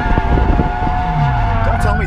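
A turbocharged Subaru BRZ drifts with its engine droning loud and close, tires squealing in rising and falling smears throughout, while a voice talks over it.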